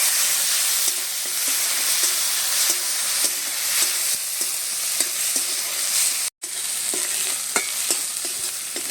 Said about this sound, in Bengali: মশলাটাকে একটু কষে নিয়েছি